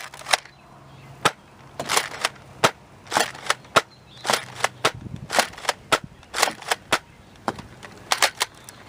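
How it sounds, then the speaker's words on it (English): An X-Shot Excel foam dart blaster fires a quick series of sharp, close snapping shots in irregular bursts, some clustered, with mechanical clacks between them and no talking. "now firing the Xshot Excel"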